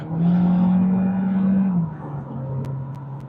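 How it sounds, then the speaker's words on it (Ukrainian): A small Audi electric car drives along with a smooth, steady hum and road rumble from inside the cabin, and the tone shifts slightly as it moves. "Їде гарно, їде машина гарно, вона маленька, така шустра, незважаючи на те, що вона батарея важка"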